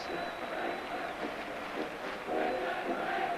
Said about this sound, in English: the crowd in the end rise to the performance